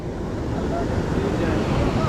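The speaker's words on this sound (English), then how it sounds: "Look at them waves." Ocean waves wash in on a rising tide along a Brazilian shore, a continuous low rushing roar with wind buffeting the microphone and no clear individual breaks.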